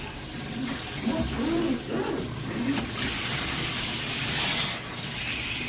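Water runs steadily from the faucet of a stainless steel kitchen sink, a continuous broadband hiss and splash with faint gurgling fluctuations throughout, loud and close.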